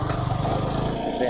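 A motorcycle engine labours steadily as the bike climbs a hill road, giving a close, continuous droning hum with no clear breaks.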